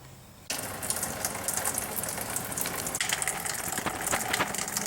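Coolant draining from a cut radiator hose on a 2002 Pontiac Grand Am, a sudden steady splashing gush of liquid starting after a quiet moment and continuing close by, with no talk.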